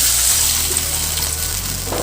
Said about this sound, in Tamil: ஒரு 1/2 டம்ளர் தண்ணி ஊற்றிடுங்க.